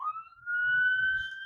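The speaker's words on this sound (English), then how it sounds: "An ambulance. Where are you going, ambulance?" Ambulance siren on a street wailing in a steady rising tone, moderately distant, with low rumbling traffic beneath it.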